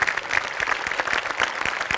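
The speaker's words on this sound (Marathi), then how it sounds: "जोरदार टाळ्या" Loud, sustained applause from a studio audience at a Marathi television comedy show, steady clapping for about two seconds with no talking.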